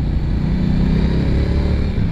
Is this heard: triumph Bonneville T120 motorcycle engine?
yes